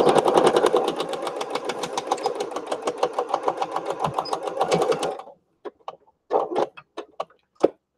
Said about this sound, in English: Just going to sew a little bit here.